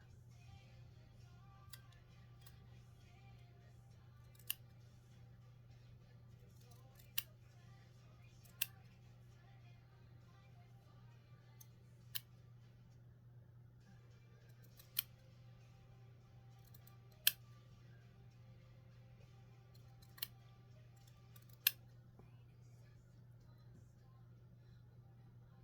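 Scissors trimming paper: a quiet steady hum underneath, broken by a series of sharp isolated snips spaced several seconds apart.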